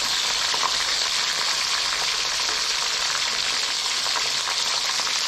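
Steady, dense sizzling of small frogs frying in hot oil in a pan, a continuous crackling hiss with small pops throughout, close by and with no voices.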